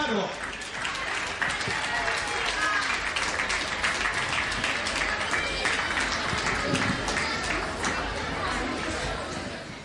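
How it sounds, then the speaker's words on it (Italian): Audience applause for a contestant at a regional beauty pageant selection in Panza d'Ischia, dense clapping and crowd chatter that swells and holds for several seconds before easing off. "L'abbiamo trovato, un applauso per Luciano"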